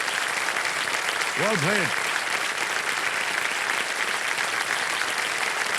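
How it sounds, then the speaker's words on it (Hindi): Studio audience on the KBC quiz show applauds steadily and loudly throughout, a dense wash of clapping with the host speaking briefly over it. "तालियां बजती रहें इनके लिए।"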